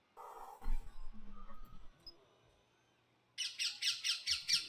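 Bird calling nearby outdoors, a repeated squawking chirp in a steady series of about seven close, fairly loud calls, preceded by a quieter stretch with a few soft knocks and rustles.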